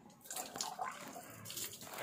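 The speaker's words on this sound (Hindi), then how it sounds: "ये देखो जरा पानी गिरे" Water falls and drips during a live buffalo calving, a continuous close splashing patter with no speech over it.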